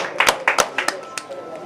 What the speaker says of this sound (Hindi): उनके लिए एक बार तालियां।